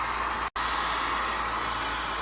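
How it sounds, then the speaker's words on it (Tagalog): Hair dryer blowing steadily on a baby's hair after a bath, a continuous close airy roar with one brief cut-out near the start. "Pagkatapos ligo, blower na tayo."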